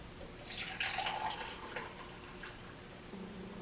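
Herbal brew poured from a pot over a sink, a soft continuous trickle and splash of liquid with brief brighter splashes, close and fairly quiet.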